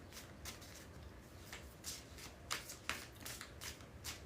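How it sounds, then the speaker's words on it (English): Tarot cards being shuffled by hand, a run of soft papery riffles and flicks at an uneven rhythm, close and fairly quiet with no talking. "Make sure these cards are good and shuffled."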